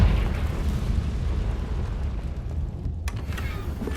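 A Confringo fire spell from Hogwarts Legacy bursts in a loud booming blast with a rumbling tail that fades over a few seconds, then a sharp crackle near the end.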